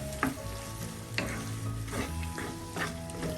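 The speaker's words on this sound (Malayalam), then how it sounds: "ഇപ്പോൾ നമുക്ക് ഒരു ഉപ്പും കൂടെ ചേർത്ത് നന്നായി ഒന്ന് വഴറ്റാം. മീഡിയം ഫ്ലെയിമിലാക്കി വഴറ്റാം." Prawns sauté with onions and salt in a pan over a medium flame, a continuous sizzle broken by regular scrapes and clinks of the stirring spoon against the pan, close and fairly loud, with no voices.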